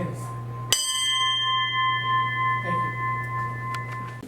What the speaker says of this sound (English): Ring the bell one more time for our shipmates still on patrol